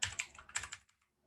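Quick bursts of keystrokes on a computer keyboard while typing Python code, a short clattering run that stops abruptly into near silence, quiet and close.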